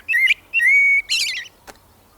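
Blackbird song played as a recording: two clear fluting whistled phrases followed by a burbling twittering flourish, loud and close with no talk, ending in a brief faint click.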